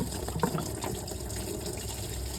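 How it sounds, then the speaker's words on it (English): Coolant water gushes and splashes steadily out of a 1989–91 Toyota Camry engine into a bucket during timing belt work, a continuous close pouring sound with no talking. "You should just pull out, and you'll end up with a lot of water through there."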